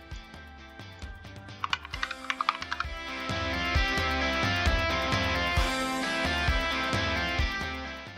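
Rapid keystrokes on a computer keyboard, a quick burst of close, crisp taps followed by steadier typing, with no one talking.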